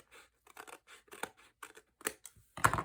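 Scissors trimming a corner off card for a twisted easel card, a series of quiet crisp snips and slides in short irregular bursts, with a louder cut at the end.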